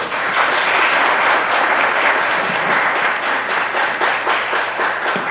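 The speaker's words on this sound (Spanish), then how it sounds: "Un gran aplauso aquí a Miguel," A conference audience breaks into loud, sustained applause after a talk on Mexican national identity, a thick wash of many hands clapping evenly without a break.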